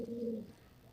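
A single short, low pigeon coo sounds close by, fading quickly into quiet background.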